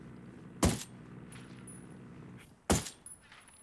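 Two sharp, loud gunshot bursts crack about two seconds apart in a first-person shooter match, with faint clatter in between and quiet background otherwise.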